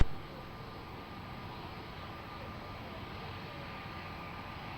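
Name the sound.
airplane taking off at Lisbon Airport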